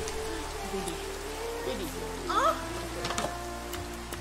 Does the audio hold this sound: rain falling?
yes